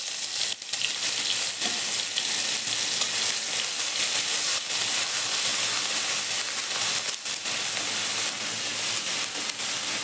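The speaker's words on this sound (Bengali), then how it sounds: "আদা রসুনটা দেখেন ভালো করে ভাজা হয়ে গেছে" Ginger-garlic paste frying in hot white oil in a kadai for street-style chicken chowmein, a loud dense hiss and crackle holding steady throughout, with a few scraping stirs.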